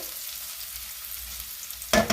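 Onions fry in a pan with a soft, steady sizzle over low heat, ending with a sudden louder clatter of stirring.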